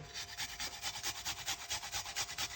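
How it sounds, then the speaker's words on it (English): A piece of ginger scraped over a grater makes a fast, steady rasping rhythm of quick, evenly spaced strokes, faint and close. "So we're going to grate a piece of a ginger."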